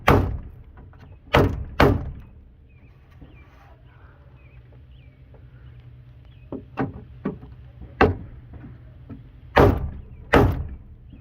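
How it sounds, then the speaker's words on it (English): A door shuts several times inside a workshop where a Jeep XJ is getting Dodge Dakota leaf springs. Sharp slams and thunks come at irregular intervals, with quiet gaps between them and no talk. "Door shuts finally."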